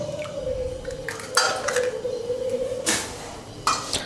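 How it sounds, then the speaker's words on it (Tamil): An egg is beaten in a bowl, giving a few sharp clinks of a utensil against the bowl over a steady low hum, close and fairly quiet. "இப்போ வந்து அந்த முட்டையை வந்து நல்லா உடச்சி"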